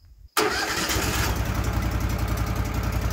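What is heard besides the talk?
Woodmizer LT15 sawmill engine starting and idling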